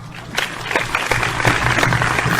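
Applause from a crowd, a dense burst of clapping that holds steady and loud throughout, heard alone without speech.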